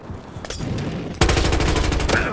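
Battlefield video game gunfire: a few scattered shots, then a loud, rapid automatic burst that keeps firing in a fast, even rhythm up close.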